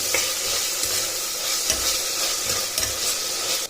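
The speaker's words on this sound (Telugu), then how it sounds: "ఇప్పుడు వీటిని ఒకసారి బాగా కలుపుకొని పెట్టుకోవాలి" Mint and coriander leaves being stirred in a pan, a steady close sizzle with soft scraping strokes of the spatula, no talking.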